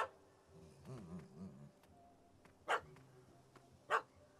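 Dog barks in The Witcher 3 Wild Hunt, a faint grumbling growl followed by two separate sharp barks spaced about a second apart, quiet under soft ambient background noise.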